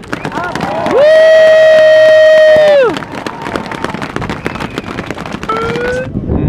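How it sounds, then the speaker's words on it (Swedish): A crowd at an outdoor freedom march applauds and cheers, with a loud sustained horn blast cutting through the middle, surrounded by rapid clapping, shouting and whistles. "ni ger er själva och alla andra här en stor applåd för det"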